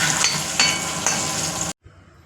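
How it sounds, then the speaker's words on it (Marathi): Tomato chutney with turmeric sautéed in a pan gives a steady close sizzle with a few stirring scrapes, then cuts off abruptly into near silence. "आपल्याला छान परतून घ्यायचे आहे आता हळद घातल्यानंतर"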